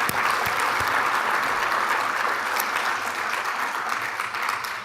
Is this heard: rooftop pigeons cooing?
no